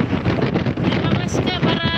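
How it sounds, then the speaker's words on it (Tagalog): Strong wind buffets the microphone outdoors at night in Jeddah, a loud continuous rumble and roar with gusty swells, and a voice is partly heard under it. "Grabe ang hangin naman sa labas"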